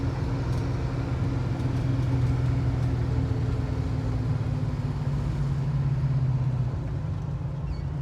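A 1969 Camaro Z28 with a low 3.73 rear gear runs steadily while being shifted through the gears. A loud, continuous engine drone holds for the whole stretch and eases off slightly near the end, with no talk.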